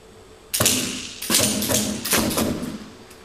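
Rifle shots on a firing range: three heavy, booming reports about half a second to a second apart, each with a long rolling tail, loud and close with no talk.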